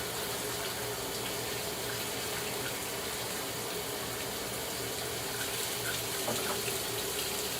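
Tap water runs steadily into a sink while laundry that had sat too long and turned smelly is rinsed, a constant close-up splashing flow with no talk.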